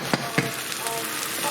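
Onions caramelising in a pan for a beef madras give a steady close sizzle and hiss, with a couple of quick stirring clicks near the start.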